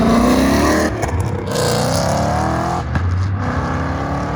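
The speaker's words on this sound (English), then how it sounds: "The Alfa Romeo sending it for the boys." An Alfa Romeo at a car meet in Houston accelerates hard, its loud engine note climbing steadily through the gears. It sits close and dominates the scene, with a short break between shifts.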